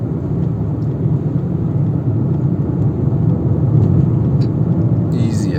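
Cars drive along a road near Centenary City in Enugu, giving a continuous loud engine and tyre rumble that swells slightly in the middle as vehicles pass close by, with a short chirp near the end.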